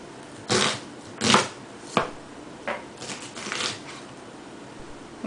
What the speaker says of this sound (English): if you want to go with speed, you use the flat side of your knuckles against your knife